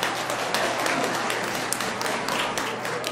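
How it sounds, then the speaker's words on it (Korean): Wedding guests at a small ceremony clap warmly for the bride and groom, a dense, loud and continuous round of applause with scattered sharper claps. "하객 여러분의 뜨거운 박수 다시 한번 부탁드립니다"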